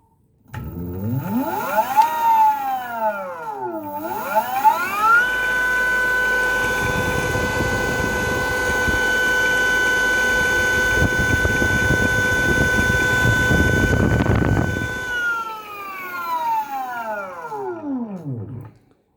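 A 72V 3000W BLDC gear motor spinning up with a rising whine, holding a steady loud high-pitched hum with fan noise for about ten seconds, then winding down in a falling whine.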